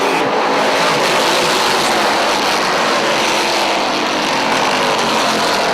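Dirt modified race cars at Airborne Speedway in Plattsburgh, New York roar loudly in a side-by-side battle, a dense, sustained engine drone with no break.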